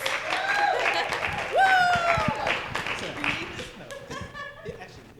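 An audience at a school town hall meeting claps with a little laughter mixed in, while voices talk over and around the applause, which fades toward the end.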